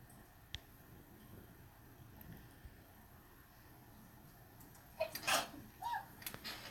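A single sneeze bursts out indoors in a living room near the five-second mark, fairly close and sharp, followed by a smaller noise, over a quiet room background.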